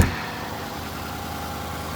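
A 6.7L Ford Super Duty diesel pickup engine runs at a steady idle nearby in about -27°C cold, a constant low, rumbling drone with no voices.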